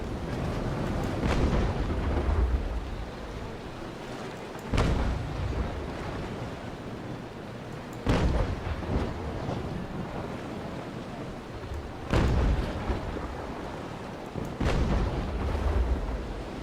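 Naval Action ship cannons fire in a broadside at sea, several booming shots spaced a few seconds apart over continuous wind and surf noise.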